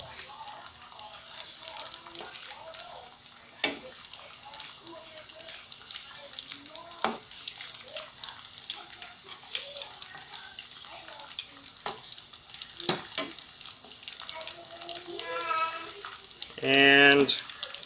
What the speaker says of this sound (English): And then we'll fry up some of the long ones.